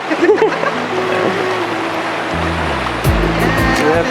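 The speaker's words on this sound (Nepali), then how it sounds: "काली गण्डकी हो पानी त ठुलो" Water of the Kali Gandaki river in Palpa rushing with a steady, close, full-bodied wash throughout, while people talk over it.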